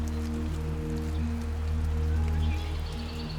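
Steady rain falls in a mossy forest, a soft continuous patter under a low droning hum, with faint tonal hints above, and no voices.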